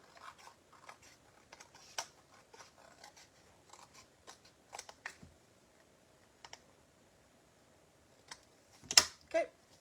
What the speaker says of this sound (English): So now what we're going to do is just take our scissors.